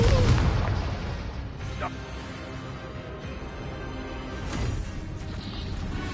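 Confringo spell explosion in the Hogwarts Legacy video game, a heavy booming blast at the start that fades into rumbling game sound, with a voiced spell incantation and other game dialogue around it.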